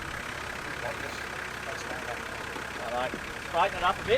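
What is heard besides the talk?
car engine starting and idling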